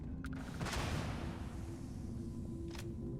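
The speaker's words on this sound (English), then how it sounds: "Distant explosions." Distant explosions and artillery fire in a video game where modular explosive delivery systems are launched: a couple of far-off muffled booms with sharp cracks over a steady low rumble.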